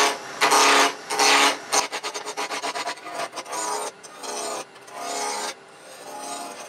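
Gouge cutting a spinning wooden Christmas ornament blank on a lathe, a near, loud rasping scrape in several bursts, steady then broken into rapid chattering strokes, with no talk.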